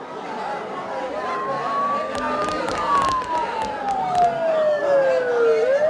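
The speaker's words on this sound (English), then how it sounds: "Don't those sirens sound really close?" Police-style emergency sirens wail in the Persona 4 video game, their pitch sweeping slowly up and down over a steady background hum, sounding fairly near and continuous without any talk over them.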